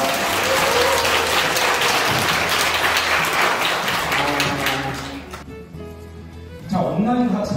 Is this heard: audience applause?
yes